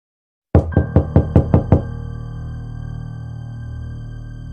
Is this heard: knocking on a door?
yes